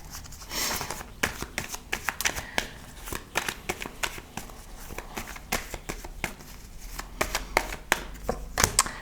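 Tarot cards are shuffled by hand close up, a long run of quick papery riffles and slaps in uneven bursts, with no talking over them.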